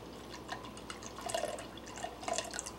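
Soy sauce is poured into a measuring cup for a stir-fry marinade, heard as a faint, close trickle and gurgle of liquid with small drips and splashes throughout.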